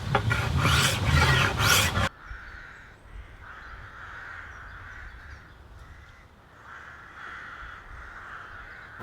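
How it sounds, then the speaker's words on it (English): A cabinet scraper is drawn along a laminate English warbow limb during tillering, making soft, close, repeated rasping strokes after a brief louder burst at the start. "So I stick only to a cabinet scraper at this stage."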